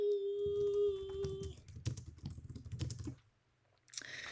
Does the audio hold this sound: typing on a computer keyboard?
yes